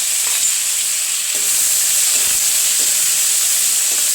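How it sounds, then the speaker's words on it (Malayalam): Tomato, okra and onion sauté in a hot pan for a simple sambar, giving a loud, steady sizzling hiss with faint scrapes of stirring, with no voices over it. "നമുക്ക് നന്നായിട്ട് അത് വഴറ്റട്ടെ"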